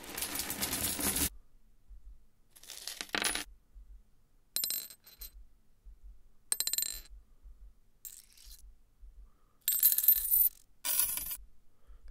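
Coins drop and clatter in several short, separate bursts with quiet gaps between them, a close and clean stock sound effect with no voices.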